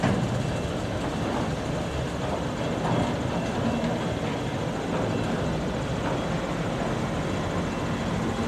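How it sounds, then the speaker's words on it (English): A CN freight train rolling past over older jointed rails, a steady loud rumbling clatter sustained throughout with a repeating rhythmic clack of wheels over the joints. "These are older rails because there are joints everywhere, as you heard the clattering over and over again."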